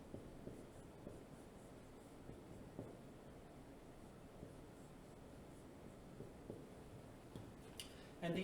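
Pen or marker scratching on a board while a chemical structure is drawn in a lecture, faint continuous scribbling strokes in a quiet room, with a brief louder knock at the end.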